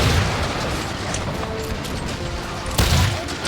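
Musket volleys fire by rank in the Empire Total War video game, a dense rolling crackle of gunfire with low booms, loud and continuous, swelling into a heavier burst near the end.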